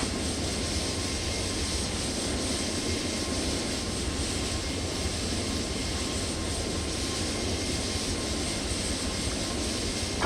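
A Toliss A321neo airliner in X-Plane 12 takes off from runway 22 left at London, its jet engines producing a steady, loud roar that holds evenly throughout with no voices.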